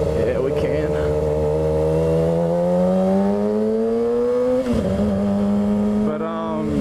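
An Audi car passes on the road beside a motorcycle, its engine a steady droning hum that rises slowly in pitch and then dips, loud and close and mixed into the motorcycle's own engine noise.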